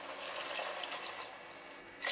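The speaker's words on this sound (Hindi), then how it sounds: "2 गिलास, जस्ट 2 गिलास पानी डाला है मैंने इसमें" Water poured steadily from a glass into a cooking pot on a medium gas flame for veg pulao, a continuous close splashing rush lasting about two seconds with a brief louder surge at the end.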